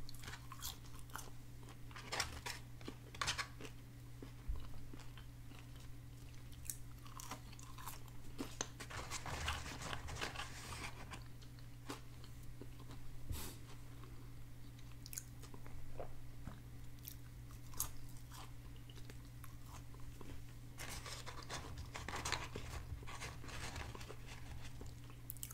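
Someone eats an Arby's roast beef sandwich and curly fries up close, giving repeated soft bites and crunchy chewing at an irregular pace over a low steady hum, with no talk.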